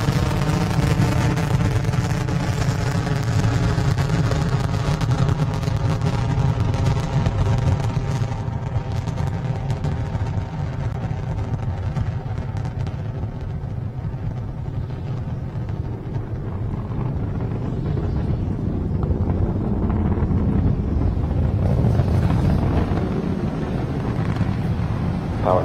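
A SpaceX Falcon 9 rocket climbing after liftoff on its nine Merlin 1D engines while carrying the Intelsat 35e satellite, a loud, continuous roar and crackle that stays steady throughout, heard alone without any voices.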